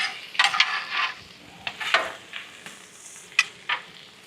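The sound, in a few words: vegetables and rice frying on Weber Slate griddle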